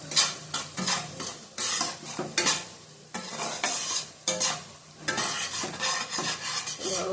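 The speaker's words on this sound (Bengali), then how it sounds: "কাশ্মীরি লঙ্কার গুঁড়ো দিলাম, ভালো করে কষিয়ে নেবো।" A spatula scrapes rhythmically through spices and Kashmiri chili powder stir-frying in a hot pan, with loud repeated strokes over a sizzle, close up and without speech.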